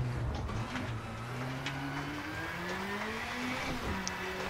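Ford Escort rally car racing over a gravel stage in the V Rally video game, its engine droning and shifting pitch as it revs through corners, with faint tire noise beneath, steady and close with no voices.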